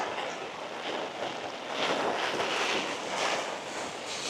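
Wind buffeting a camera and umbrella during a walk in monsoonal rain in Innisfail, Australia, a steady broadband rushing roar that swells slightly midway with no speech.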